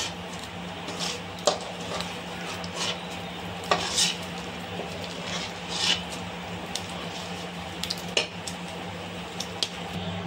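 Garlic frying in hot oil for a fresh prawn pickle, a steady low sizzle broken by sharp scraping clinks of a stirring spoon against the pan, close and with no voices.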